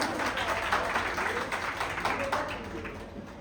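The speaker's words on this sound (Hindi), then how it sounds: "आप सबके लिए एक बार बिग हैंड से जोरदार तालियां" Loud, dense applause from an audience at a celebration for rank holders, steady at first and then slowly easing off, with voices mixed in.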